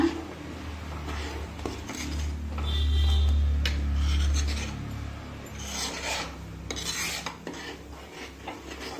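Avarekalu (hyacinth bean) curry being stirred in a pot, a steady scraping and rubbing of a spoon against the pot, louder in the middle, with no talking.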